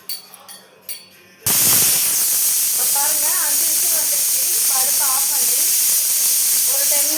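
A pressure cooker cooking lentils lets out a loud, steady hiss of steam that runs without a break after a short, quieter start with faint handling sounds.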